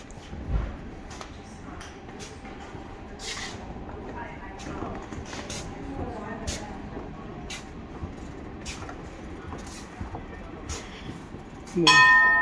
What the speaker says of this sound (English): ringing the dinner bell up here